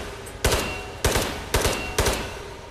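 Four sharp gunshots fired at a bunker shooting range in the video game Ghosts of Tabor, evenly spaced about half a second apart, loud and close with short ringing tails and no talking.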